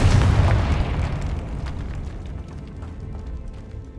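A deep, booming fire-blast explosion from the Confringo spell in Hogwarts Legacy, inside a decaying catacomb, loud at first and then rumbling as it slowly fades over several seconds.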